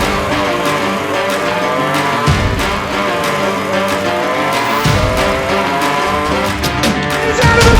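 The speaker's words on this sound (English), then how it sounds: "So that's a big crash!" Racing cars crash, with roaring engines and squealing, skidding tires running loud and continuous throughout, broken by several sharp bursts of noise.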